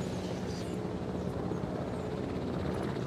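A helicopter lifts off in the dinosaur-park management game Jurassic World Evolution, its rotor and engine a steady, loud, unbroken drone that fills the whole stretch with no talking.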